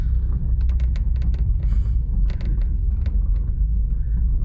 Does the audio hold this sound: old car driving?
yes